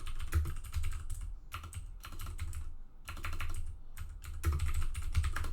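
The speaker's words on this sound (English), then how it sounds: "sorry for my loud keyboard there." Loud computer keyboard typing in bursts of rapid clacking keystrokes with short pauses between, close and alone with no talk.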